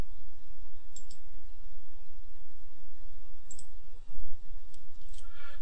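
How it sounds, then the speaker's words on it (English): A few crisp computer mouse clicks, spaced several seconds apart, over a steady low hum while selecting circuit board copper layers in ViewMate PRO, with no voices. "right-click on the top copper layer name and then click on Only This Visible"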